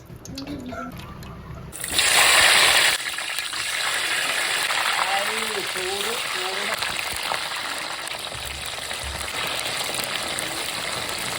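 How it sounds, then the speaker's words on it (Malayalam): Cooking oil is poured for frying banana bondas, starting as a brief gushing rush and settling into a steady pouring hiss, with faint voices in the background. "നമ്മൾ എണ്ണ ഒഴിക്കാൻ പോകണം കേട്ടോ."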